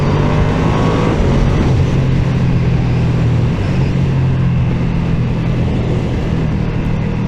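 A Ducati V2 Streetfighter motorcycle engine runs steadily and loudly throughout, a continuous low growl with a slight rise in revs, no talking over it.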